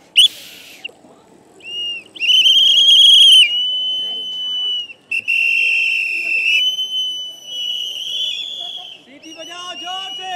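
Shrill whistles are blown loudly in repeated bursts, some long steady blasts and some warbling trills, with faint crowd murmur and talk underneath at an outdoor political rally.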